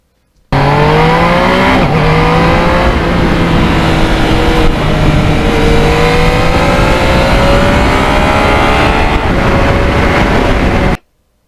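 A 2020 Yamaha MT-09 motorcycle rides along with its engine loud and close, the pitch climbing and then dropping sharply at each of several rapid quick-shifter gear changes.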